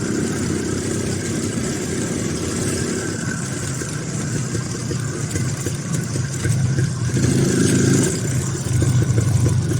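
An IZh Planeta 5 enduro motorcycle engine runs steadily on a ride along the road home, a continuous mid-pitched drone with rising revs and wind rush toward the end, loud and close with no talk.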